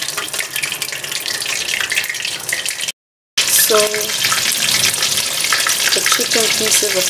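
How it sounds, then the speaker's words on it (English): Steady sizzling and crackling of buttermilk fried chicken pieces frying in hot oil, loud and close, with a brief silent gap and some faint clinks of stirring. "some pieces are frying right now"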